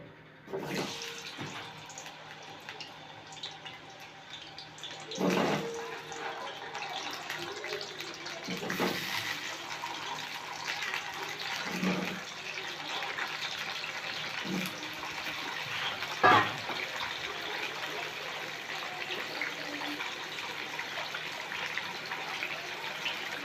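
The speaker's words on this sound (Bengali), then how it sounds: "এই তেলের মধ্যে আমরা এবারে আলুগুলোকে লাল লাল করে ভেজে তুলে নেব" Potatoes fry in hot oil in a wok, a steady hissing sizzle that stays fairly even throughout, broken by a few soft clunks as the pieces are stirred.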